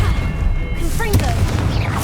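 A Confringo spell explosion in Hogwarts Legacy, a loud boom with crackling spell effects over dense combat noise, while a voice speaks during it.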